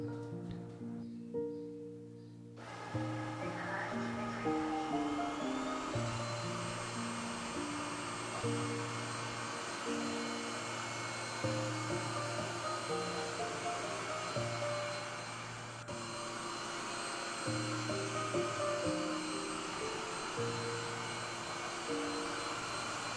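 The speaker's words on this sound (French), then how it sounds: "on va passer l'aspirateur" Household vacuum cleaner running steadily during spring cleaning, a constant whirring drone with slight fluctuations as it moves across the floor after a short quieter start.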